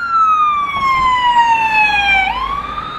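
An ambulance siren in the Budějovice area wails loud and close, its pitch sliding slowly down and then jumping back up in a steady sweep, with faint road noise beneath.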